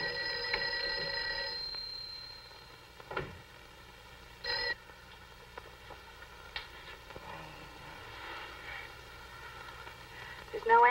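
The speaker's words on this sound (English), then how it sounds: "Mary, see if you can get Jan on the phone." An old telephone bell rings in a 1959 film scene, with a few brief ring bursts separated by long gaps of quiet room tone, each ring fairly faint and unanswered.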